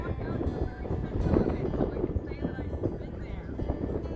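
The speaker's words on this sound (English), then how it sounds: "It's about 37 degrees and windy" Gusty wind at about 37 degrees buffets the microphone in a steady low rumble at Promontory, Utah, with a voice talking over it throughout.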